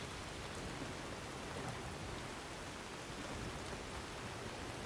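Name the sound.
rain in the video game Skyrim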